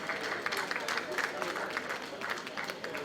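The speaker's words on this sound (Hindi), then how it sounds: "इनके लिए जोरदार तालियां हो जाएं" Crowd applause at a state literary awards ceremony in Uttar Pradesh, rippling clapping heard throughout with voices speaking over it.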